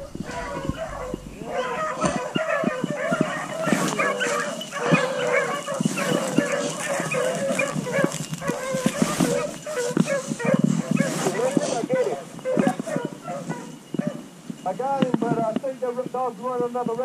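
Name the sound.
beagle pup baying while running a rabbit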